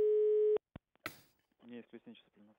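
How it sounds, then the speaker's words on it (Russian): A steady telephone line tone sounds loudly while a live radio call-in show dials a listener, then cuts to a few short beeps before a voice begins speaking. "Сейчас мы дозваниваемся."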